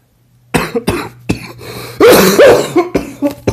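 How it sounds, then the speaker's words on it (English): Someone nearby coughs hard several times in a quick, ragged fit that ends in throaty, strained noises. "Yep, still got this cough."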